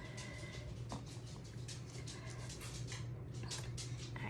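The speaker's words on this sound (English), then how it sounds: "I hear my dog tippy tapping" A dog's claws patter lightly across a hard floor in quick, uneven taps, faint and close, with soft rustling around them.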